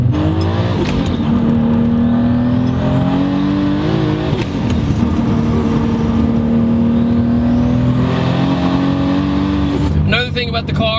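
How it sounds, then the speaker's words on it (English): A 1000 hp Toyota Supra running on E85 with boost turned up, engine droning loudly at half throttle as its turbo spools with rising whine, a sharp burst near the end. "we're gonna do some half throttle stuff just to hear the turbo spool up with the boost turned up."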